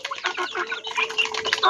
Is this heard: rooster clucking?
yes